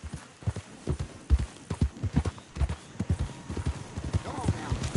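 Horse hooves clip-clop in a steady, uneven rhythm through the Red Dead Redemption II game world, close and fairly loud, with a brief whinny near the end and a rider's voice talking over the hoofbeats.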